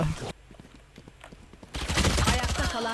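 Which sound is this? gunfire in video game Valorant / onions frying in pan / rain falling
gunfire in video game Valorant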